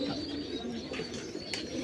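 Pigeons cooing near their newly built house, soft repeated throaty coos rising and falling close by, several birds overlapping in a low, steady murmur with no one speaking.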